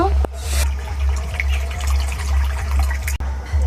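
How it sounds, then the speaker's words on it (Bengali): A little water poured into a pan set on the stove with raw and ripe mangoes to boil for a homemade mango drink, a short close splashing pour with a trickle. "অল্প করে জল দেব"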